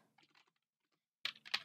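Computer keyboard typing: a few light, sparse keystrokes, then a louder burst of quick clicks near the end, close and clear with no voices.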